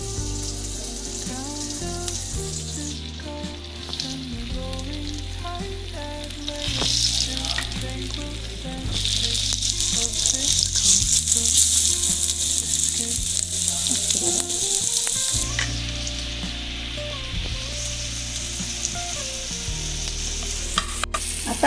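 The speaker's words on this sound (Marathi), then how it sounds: "एक फिश घ्यायचा, ह्या पिठात डीप करायचा आणि तेलामध्ये असं सोडून द्यायचं" Battered fish pieces deep fry in hot oil, a dense, steady bubbling sizzle that swells louder midway, with background music throughout.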